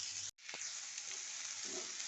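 Squash peels frying in a pan on medium heat, a steady close crackling sizzle broken by one brief dropout near the start, with faint clinks from stirring, and no voices.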